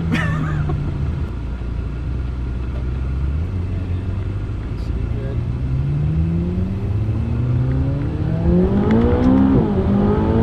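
A McLaren 570GT accelerates hard on a test drive, its engine note climbing steadily in pitch through a sustained, loud rev with a rising whine near the end, rumbling throughout with no talk over it.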